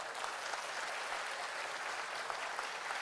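Audience applause at a formal Indonesian ceremony, dense steady clapping from a large crowd sustained throughout, without voices.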